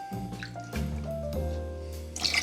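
Cranberry juice being poured for a tea-infused Cosmopolitan cocktail, a close liquid gurgle and trickle with rising filling tones over a few seconds, no talk.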